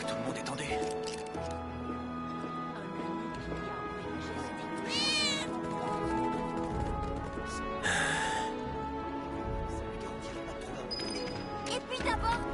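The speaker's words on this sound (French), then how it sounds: "c'était pas un miaulement de chat à l'instant" A cat meows in Final Fantasy VII Remake, a few short mews rising above game music and ambience, with a person talking throughout.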